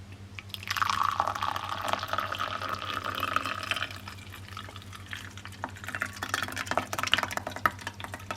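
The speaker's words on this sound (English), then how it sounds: "You have to wait for the tea to be poured in, so I'll quickly do that and then you'll be able to see that heart appear." Tea pours into a mug indoors, a steady trickling liquid stream over a low constant hum, with a short pause partway through before the pouring picks up again.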